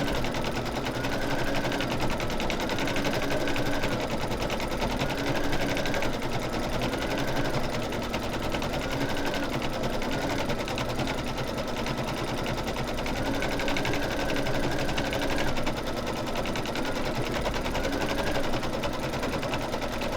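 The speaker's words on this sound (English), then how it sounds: "I'm going to go ahead and let it do the background stitching" An embroidery machine runs background stitching on a snowman mug rug, an unbroken fast rhythmic needle chatter with a pulsing motor hum throughout, with no voices.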